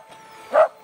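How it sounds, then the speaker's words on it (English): A real dog gives a single short bark toward a Boston Dynamics robot dog, fairly close and moderately loud, standing out briefly against background noise. "Oh, it's a dog."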